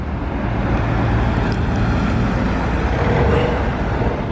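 A Porsche GT3 RS phase 2 passes through the Monaco hairpin with a steady, loud, broad engine and road roar. The sound is close and sustained, and no one speaks.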